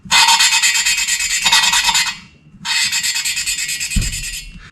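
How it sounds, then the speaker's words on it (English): A valve lapping tool grinds a valve into its seat during a motorcycle engine rebuild, giving two long bursts of rapid back-and-forth rasping scrape separated by a short pause, close and loud, ending with a light knock. "take your valve lapping tool, suction cup one end to the base of the valve, and work it backwards and forwards like so"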